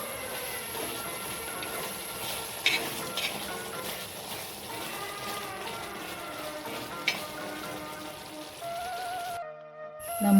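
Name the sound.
stirring banana pieces in reducing coconut milk in a pan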